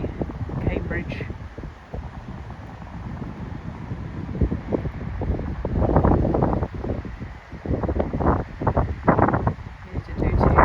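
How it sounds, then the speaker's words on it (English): Gusty wind buffets the microphone outdoors at Madingley American Cemetery near Cambridge on a wet, blowy day, a steady rushing roar with stronger surges and low rumbling gusts throughout. "Very blowy, wet day at Madingley American Cemetery, Cambridge."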